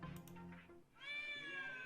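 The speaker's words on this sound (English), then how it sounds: "a dainty meow echoes around the room, signaling the appearance of a pristine white feline" A video-game cat gives two dainty meows, the first soft and brief, the second longer and rising, clear and close with no talk over it.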